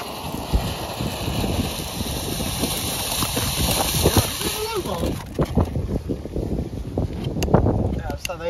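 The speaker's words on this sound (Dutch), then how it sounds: "hele hoop wind." Strong wind outdoors while fireworks are being set off, gusting and rushing across the microphone throughout, with people talking underneath.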